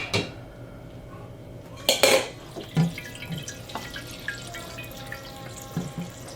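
Water runs into a cooking pot of soaked, strained beans, with metal pot clanks, a sharp utensil knock and scattered drips over a steady faucet hiss close up.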